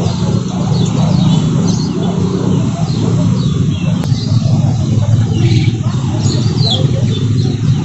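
Busy bird chirping and tweeting throughout, starlings and many other small caged birds calling over a steady background hum of a crowded Sunday bird market in Mataram.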